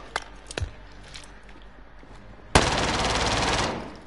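Gunfire from a weapon in the video game Warzone: a few scattered sharp shots, then a loud, dense burst of rapid automatic fire lasting about a second before cutting off.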